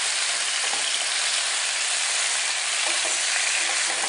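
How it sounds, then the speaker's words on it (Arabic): Meat browns in a hot pan for a creamy meat tagine, giving a steady, close, hissing sizzle that continues unbroken with faint stirring scrapes throughout. "بنلاحظ كيف اللحمه اخذت هالتحمير بهالطريقه"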